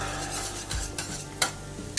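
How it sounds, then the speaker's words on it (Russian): A spoon stirs lasagna sauce boiling in a pan, with soft scraping strokes and occasional clinks over a low bubbling hiss, close up and without talk. "Пока соус кипит, постоянно его мешаем, чтобы он не пригорел."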